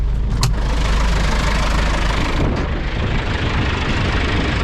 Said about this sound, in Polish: Ja tutaj go zostawiam, on się trochę niech rozgrzeje. To jest silnik z turbiną